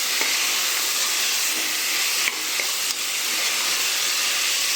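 Ingredients for green peas pulao sauté in a hot pan, giving a continuous loud sizzling hiss close up, with a couple of faint clicks of stirring.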